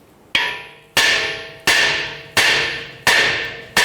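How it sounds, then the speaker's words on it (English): Six loud metallic hammer blows on a steering knuckle to free the ball joint on a 2009-2015 Honda Pilot, evenly spaced about two-thirds of a second apart, each ringing and slowly decaying. "Let's go ahead and strike that knuckle and see if we can get that ball joint to release."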